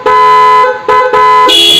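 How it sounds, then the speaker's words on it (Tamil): A loud factory-fitted vehicle horn blares close by in three bursts, two long honks with short breaks, then a higher-pitched tone. "இது கம்பெனி ஹார்னு."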